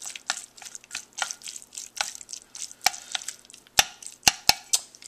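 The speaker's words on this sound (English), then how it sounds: "So we'll mix that in" Chili oil is stirred into cold sesame ramen noodles with a utensil, giving close, sticky clicks and wet taps against the bowl in an irregular rhythm, with several sharper knocks toward the end.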